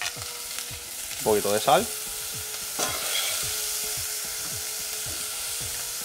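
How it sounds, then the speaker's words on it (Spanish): Onion with green, red and yellow peppers sauté in extra virgin olive oil, a steady close sizzle broken by a few stirring scrapes, with a short spoken phrase partway through. "un poquito de aceite de oliva virgen extra y añadimos la cebolla, un poquito de pimiento verde, pimiento rojo y pimiento amarillo"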